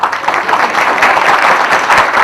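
A crowd claps hands together in a dense, steady burst of applause, loud and close, with no talk audible over it.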